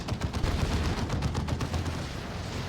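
Continuous gunfire and explosions from a Warhammer 40,000: Dawn of War 2 3v3 battle, with a melta gun firing amid dense overlapping shots and booms, loud and steady throughout.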